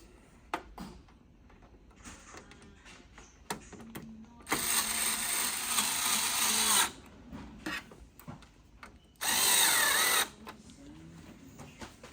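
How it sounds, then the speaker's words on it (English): A power screwdriver tightens screws on the SBC board of a Xerox AltaLink C8000 Series copier, with two sustained whirring bursts of a few seconds each, close up, between small clicks and handling noises. "And then the next thing you're going to want to do is tighten those 3 screws."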